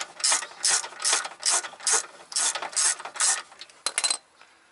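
Ratchet wrench with an 18 mm socket loosening a control arm bolt on a MK4 Volkswagen Jetta/Golf, a run of about ten quick, loud clicking bursts in steady rhythm, close up with no talk.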